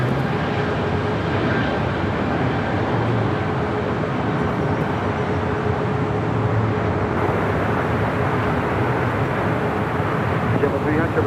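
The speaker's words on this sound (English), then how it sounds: "As Breeze now rolls down 25 right, heading back to Huntsville, Alabama." A Breeze Airways 737 MAX 9 airliner rolls down runway 25 right at LAX bound for Huntsville, a steady loud broadband engine roar that holds throughout.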